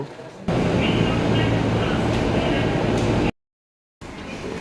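Steady rumble inside a train in Japan, loud and constant, with a sudden silent gap near the end before the rumble resumes.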